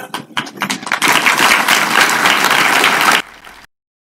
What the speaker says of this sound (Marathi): नुसत्या टाळ्या काय कामाच्या